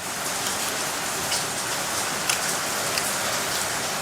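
Heavy rain pours steadily outdoors in rural northeastern Thailand, a dense, even hiss of drops on surfaces with a few slightly louder patters, near and unbroken with no voices.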